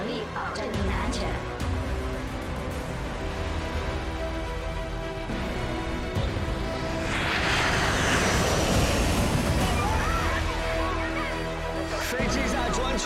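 Airliner in flight in a film trailer, a continuous heavy engine drone and rushing roar that swells in the second half, with dialogue and music layered over it.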